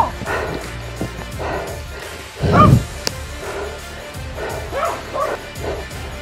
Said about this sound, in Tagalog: Tapos may aso pa.